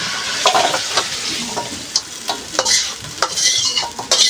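Sizzling fried chicken giblets and liver scraped and tipped out of a wok into a bowl, with repeated metallic scrapes and clinks of a spatula against the metal.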